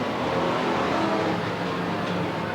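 Race car engine roaring steadily at Willamette Speedway in 1991 as a car spins out on the front stretch, a dense continuous loud drone of racing engines without clear distinct events.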